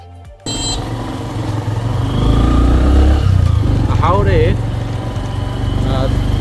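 Two motorbikes carrying four riders on a rural road near Tanguar Haor, the engine droning and rising close by with wind rumble, while a voice talks over the ride.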